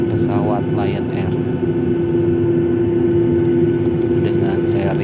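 Lion Air Boeing 737-900ER on the runway at Soekarno-Hatta Airport preparing for takeoff, a loud, steady engine drone with a sustained tonal whine heard from the cabin, under a person talking.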